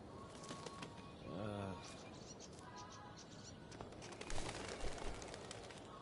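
A bird coos softly among birdsong and ambient game sounds in Life is Strange: Before the Storm, followed by a brief flutter of wings.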